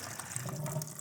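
Water and antifreeze drain from an old motorcycle that sat outside for ten years, a faint trickling, splashing flow that runs steadily and softly for about a second, with no talking.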